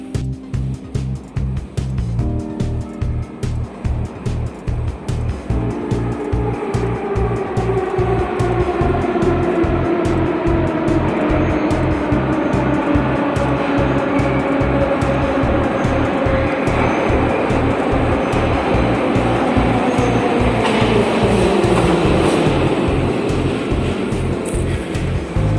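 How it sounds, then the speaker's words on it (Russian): A metro train pulls into a station and brakes to a stop at the platform, its rhythmic wheel clatter over rail joints slowing while a rising then falling electric whine and brake squeal fill the space, loud and continuous throughout. "Поезд остановился ровно у маркера."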